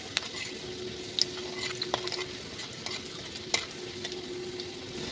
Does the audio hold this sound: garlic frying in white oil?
yes